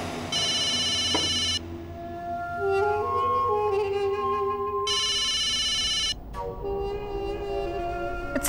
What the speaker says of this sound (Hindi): फोन उठाओ प्रतीक, फोन उठाओ।